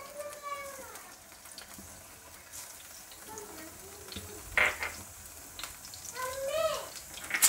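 Oil tempering for hotel-style dal tadka sizzles and crackles softly in the pan. The frying grows louder in short spurts while someone talks over it.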